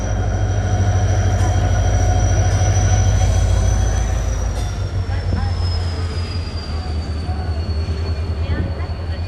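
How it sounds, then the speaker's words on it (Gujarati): An Intercity Express train hauled by a WDP 4B diesel locomotive rolls in at an Indian Railways station, with a loud low rumble, a long high wheel squeal that slowly falls in pitch, and a voice speaking over it. "ઇન્ટરસિટી એક્સપ્રેસ આવી ગઈ છે, તમને દેખાતી હશે."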